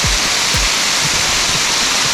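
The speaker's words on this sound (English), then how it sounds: "So you can tell it's a big waterfall." A big multi-drop waterfall on the Fiery Gizzard trail roars as a loud, steady, unbroken wash of broadband noise, close and continuous with no voices over it.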